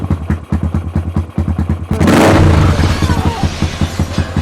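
A motorcycle engine running through a loud self-welded exhaust, chugging in rapid, even pulses before a sudden harsh revving burst, then settling back to a rough, throbbing idle up close.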